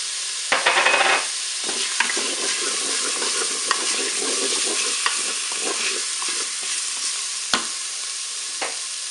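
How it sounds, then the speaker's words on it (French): Tuna steaks and shallots brown in a preheated Cookeo multicooker, a steady close sizzle with occasional sharp clicks and utensil scrapes and no speech. "je vais pouvoir faire revenir mes steaks de thon. Allez, j'ajoute mes échalotes."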